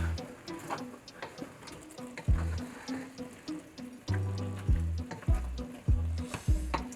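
Three kinds of meat bubble and cook in a pot for Cameroonian taro with yellow sauce, close soft simmering and frying with repeated low thuds and clunks of stirring, moderately quiet and irregular.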